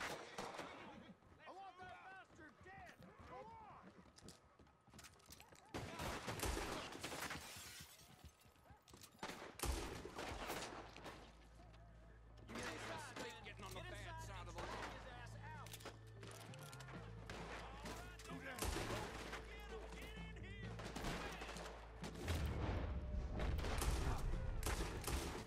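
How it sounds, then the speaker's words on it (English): Enemies in Red Dead Redemption 2 open fire in a rapid, crackling barrage of gunshots that builds and grows louder, with bursts of shots layered over low rumbling and someone talking. "I love how they just started opening fire."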